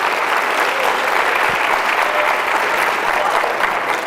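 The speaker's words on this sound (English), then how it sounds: "give these folks a round of applause" A live audience applauds hypnosis show volunteers, steady, dense clapping that holds at full strength throughout, close and loud with no speech over it.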